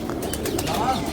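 Pigeons beat their wings briefly up close in a loft, a short soft flutter, while people talk nearby.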